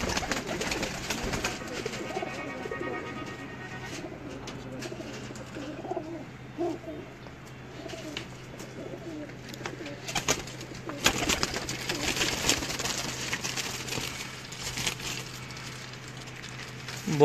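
Pigeons cooing close by in repeated soft, throaty phrases, with people talking at times and some rustling and clatter in the background.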